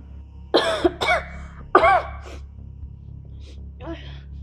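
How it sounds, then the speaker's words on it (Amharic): Several harsh coughs in quick bursts, a few loud and close, followed by fainter throat sounds, over a steady low hum. "እኔ እኮ ደረቅ ሳል አይደለም የምስለው"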